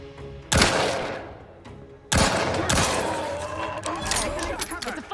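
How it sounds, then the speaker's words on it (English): A multi-grenade launcher fires in the video game The Outer Worlds 2, with two loud booming blasts whose long rumbling tails carry into a busy mix of game noise and echoes. "Oh, this is like multi-grenade launcher."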